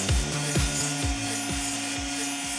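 Cardboard packaging of a boxed Honda HRN 536 petrol lawn mower being unpacked nearby, with repeated rubbing, scraping and thumping in a steady loose rhythm and no talking.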